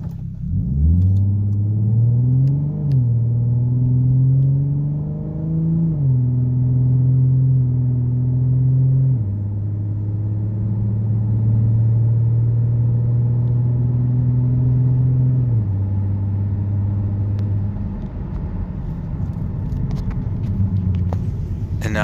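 A 3.7 V6 Ford Mustang running an 87-octane PR-X tune accelerates gently in sport mode, its steady mid-pitched engine drone rising through short upshifts with a few clear pitch drops, loud and close throughout.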